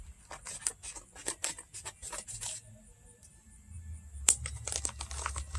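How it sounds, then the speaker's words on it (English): Rapid crisp snips of scissors and crinkling of plastic packaging on an Elite Series wrestling action figure being cut open, close by, in quick irregular bursts with a sharper crack near the end. "I got the scissors"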